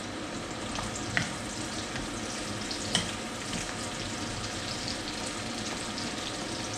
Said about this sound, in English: Let's get some eggplant in the wok.